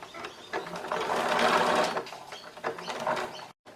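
A sewing machine stitches fabric slowly around a curve, its close, rapid mechanical whirring running in short bursts and easing off before stopping abruptly near the end.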